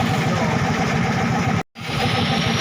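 A Yamaha X-Ride or Mio motorcycle engine idles while warming up, a steady, close, loud mechanical drone that cuts out for a split second before resuming just as before.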